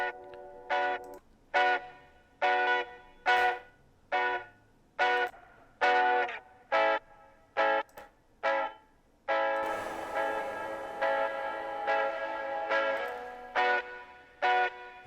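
Guitar chords strummed one after another through reverb presets in Bitwig Studio, a series of evenly spaced ringing hits with short washy tails, then a sustained strummed passage with a longer, fuller reverb bloom.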